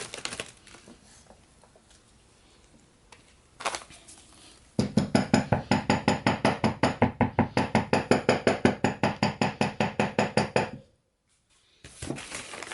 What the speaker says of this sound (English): Beating on things with a hammer